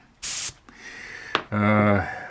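Water leaking under pressure from a fitting on a model ship gives a short, close burst of hissing spray, followed by a sustained, buzzing, tonal sound.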